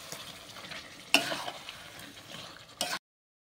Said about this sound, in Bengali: দিয়ে দিচ্ছি, দিয়ে আরও একটু নাড়িয়ে কষিয়ে নেব